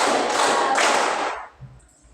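Many pupils clap together in a classroom counting game, making a loud, dense wash of claps in two surges that cuts off abruptly, leaving a faint quiet tail.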